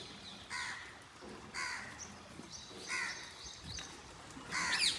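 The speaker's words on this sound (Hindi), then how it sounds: "जो आप मेरे बैकग्राउंड के सामने ये कौवे चिड़िया की आवाज़ सुन रहे हो ना" Crows caw repeatedly in a village, harsh calls arriving in short bursts about once a second against a quiet outdoor background, with a louder cluster of caws near the end.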